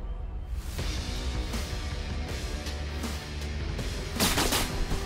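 Enemy suppressive gunfire in the Ratten Reich video game, rapid bursts of automatic shots and booming reports over a dense rumbling battle bed, loud and sustained with no talk.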